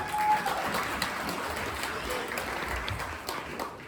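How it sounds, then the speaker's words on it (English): Moderate applause from a campground audience at a stage hypnosis show, a softer scattered clapping with some crowd noise and a brief tone near the start. "Give him a round of applause"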